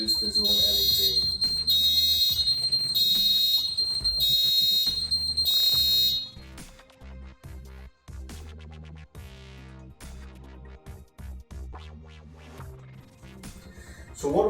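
A Pearl fire alarm panel buzzer sounds loud, rhythmic, repeated high electronic tones for about six seconds. Other tonal electronic beeps follow.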